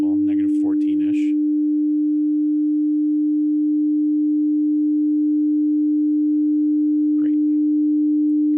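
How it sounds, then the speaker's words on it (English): Steady 300 Hz sine tone from an oscillator, continuous and constant for the whole span, with brief speech at the start and a faint click near the end. "We'll turn up our sine wave to the same level, negative 14-ish."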